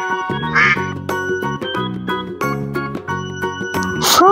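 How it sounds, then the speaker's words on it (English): Toy ducks in a water bath give several loud, nasal quacks in an uneven rhythm, mixed with bright jingling and tinkling tones, no talking. "Ducks."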